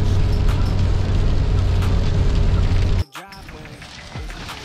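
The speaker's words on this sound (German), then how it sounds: "Es regnet in Strömen." Loud, dense torrential rain roars steadily for about three seconds, then cuts off abruptly to a quieter scene with a voice.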